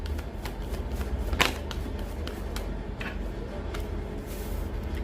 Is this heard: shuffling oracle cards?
yes